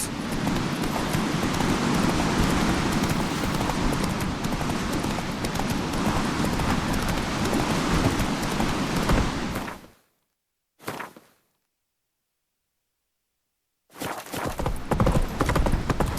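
Roach, the horse in The Witcher 3, gallops with loud, rapid clip-clop hoofbeats for about ten seconds, then cuts to silence with a brief burst, before the galloping returns near the end.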